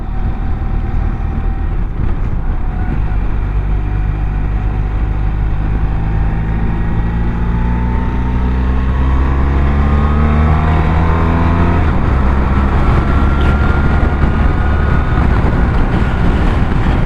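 A BMW R1300RS motorcycle engine revs up through its gears, a steady close drone with rising pitch sweeps and a quick shift near the middle, heavy wind noise over it and no talking.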